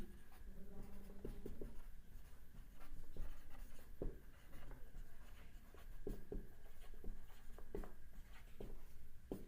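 Pen or pencil scratching on paper while a math problem on square roots of fractions is worked out, steady stroke-by-stroke writing with sharp taps and scrapes over a low background hum.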